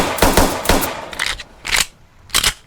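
Gunfire from a secondary weapon in the Roblox game Trenches, five loud, sharp shots spaced irregularly, close and alone.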